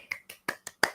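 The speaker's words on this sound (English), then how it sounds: "I'm clapping for myself." Hands clapping by a single person, five sharp separate claps spaced roughly evenly across under a second, fairly quiet with no talking.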